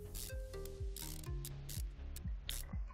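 Ratchet wrench tightening bolts in Car Mechanic Simulator 2015 while a Sakura GT20 is repaired, with rapid repeated mechanical clicking strokes in a steady rhythm, loud and close, with no talk.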